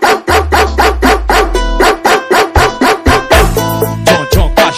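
Rhythmic dog barks repeat in a steady beat throughout a Brazilian funk song, loud and up front over a deep bass line, with about a dozen barks in quick succession.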